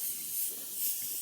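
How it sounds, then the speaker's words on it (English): Airbrush giving a short test spray of paint onto a paper pad, a steady soft hiss lasting just over a second, close and alone. "I do a little bit of a test spray over here on this pad that I have, just some extra paper."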